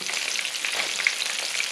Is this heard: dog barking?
no